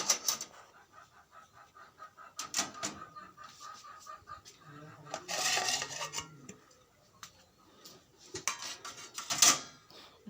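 Dishes and utensils are put away in a home kitchen, with intermittent clinks, clatters and scrapes of metal and crockery, fairly close, while someone talks softly in between.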